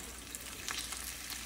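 Mild cheddar and Monterey Jack cheese frying in a pan, giving a steady, soft sizzle with scattered crackles and pops, heard alone without any talk.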